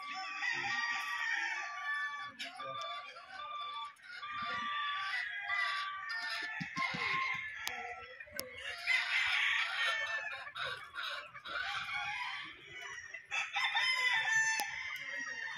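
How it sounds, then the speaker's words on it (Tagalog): Gamefowl chickens at a mountain game farm in Dolores, Quezon, steady clucking and repeated rooster crows from several birds nearby and farther off, a dense continuous flock chorus with no talk. "Wow, mga quality manok."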